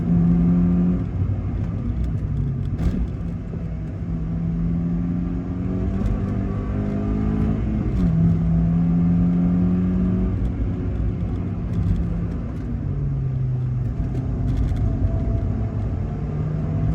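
A Toyota Yaris TS engine, running on E85, revving and accelerating up through the gears, pitch climbing then dropping at each shift, heard from inside or close by with steady road rumble.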